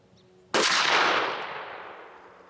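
A Remington 870 shotgun with a full choke fires a single Remington Express 12 gauge 00 buckshot shell outdoors: one loud, sudden blast whose echo rolls off and fades over a couple of seconds.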